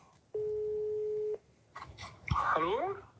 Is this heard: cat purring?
no